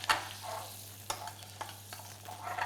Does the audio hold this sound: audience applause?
no